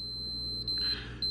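A multimeter continuity test gives a steady high electronic beep, close and clear, broken briefly once partway through, while the probes touch a bare wire on a hot glue gun.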